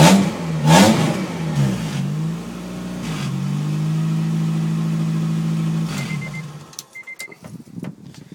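A Honda H22A engine in a Euro-R DC2 fires up for the first time with a crank and catch, a quick rev, then settles into a steady idle before cutting off, followed by faint clicks and handling sounds.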